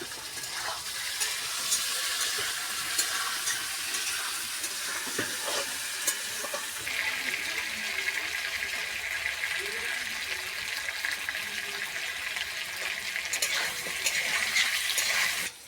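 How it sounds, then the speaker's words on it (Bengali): Potatoes frying in oil with a little salt, a steady close sizzle with crackling hiss and occasional stirring scrapes, running continuously throughout. "আমি সামান্য একটু লবণ দিয়ে ভেজে নিচ্ছি আলুটা।"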